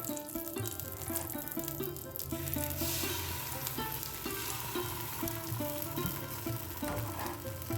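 Rice-flour batter for chitoi pitha sizzles in a pan over a low flame, a steady soft fry broken by a repeating light clink of utensils, with no talk.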